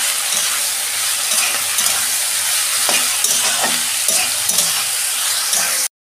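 Vegetables stir-fry without salt in a pan for egg chowmein, a loud steady sizzle broken by repeated scraping and tossing strokes, ending abruptly.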